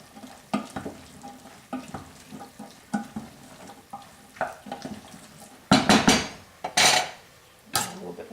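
Pasta with chickpeas and sauce tossed in a metal pan, sizzling softly with a series of scraping and clattering knocks that grow louder and sharper toward the end, with no talking.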